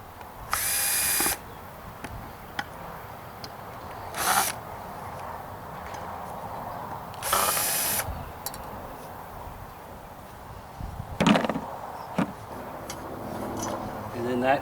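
Four Phillips screws are backed out of an aerobic septic system aerator cover with a driver, producing several short, sharp whirring bursts spaced seconds apart over a quiet background.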